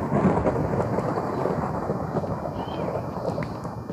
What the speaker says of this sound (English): Thank you, Thunder. Thor, I know you're up there. Quit with all the lightning.